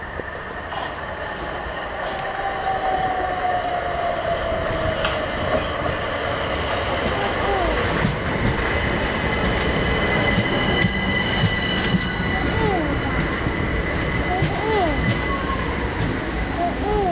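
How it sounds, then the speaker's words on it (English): A train rolls steadily past nearby, its wheels squealing and clattering over the rails with a continuous rumbling roar for the whole stretch. "That's a train. That's a train."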